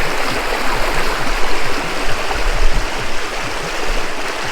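Cold, clear stream water flows at the Dudhiya picnic spot in the hills near Siliguri, a loud, steady rushing and gurgling close by with no voices.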